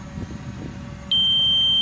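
A steady high-pitched electronic low-battery warning beep from a DJI Mavic Pro drone at 30% battery starts abruptly and holds continuously over faint low background noise.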